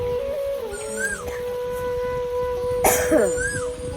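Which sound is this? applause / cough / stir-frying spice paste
cough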